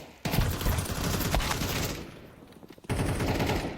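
Counter-Strike 2 rifle fire in a pro esports match between 3DMAX and Heroic sounds as a dense, rapid burst of loud gunshots, pauses briefly, then resumes.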